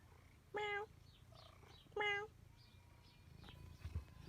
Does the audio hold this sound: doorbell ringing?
no